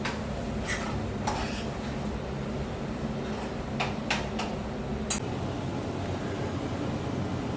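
Onion and tomato stirred in a pan, with a few light, scattered clinks and scrapes of a utensil against the pan over a steady low hum, and no one talking.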